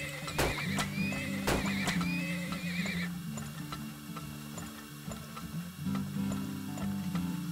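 Horses in the game Turmoil neigh loudly twice near the start, with hoof clip-clop and ticking game sounds continuing underneath.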